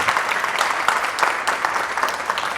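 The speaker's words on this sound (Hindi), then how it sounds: "2 जोरदार तालियों के साथ इनका स्वागत करता हूँ।" Dense, steady applause from a crowd, many hands clapping together at an even, lively level throughout.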